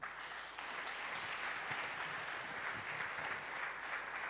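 A church congregation applauds steadily during a worship service, a dense and even wash of clapping that holds its level throughout with no pauses.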